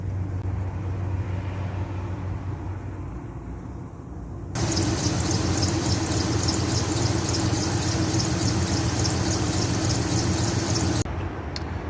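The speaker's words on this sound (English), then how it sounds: "start the vehicle, and let it run for 20 minutes" A car engine idles after Blue Devil radiator flush degreaser is added to the coolant, a steady close hum that jumps to a louder, shrill whine and squeal partway through, then cuts back near the end.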